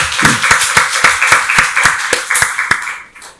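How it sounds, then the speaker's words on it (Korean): A church congregation at a Sunday service claps together in a steady, even rhythm, loud and close, before tapering off at the end. "하나님께 박수로 영광 돌리겠습니다."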